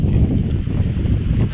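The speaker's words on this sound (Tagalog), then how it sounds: "Tapos malakas talaga ng hangin." Strong wind buffets the microphone outdoors, a loud, continuous low roar and rumble with no break throughout.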